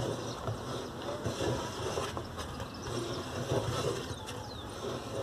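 A train runs at Três Palmeiras with a steady, moderately loud rumble, a few faint metallic squeaks and clicks, and low background noise throughout.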